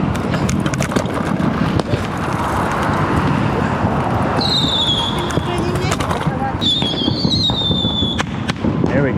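Bottle rockets and other fireworks burst outside a 7-Eleven on Beach Boulevard on Fourth of July night, loud continuous crackling and popping with shrill whistling streaks overhead, amid a noisy street crowd with people talking.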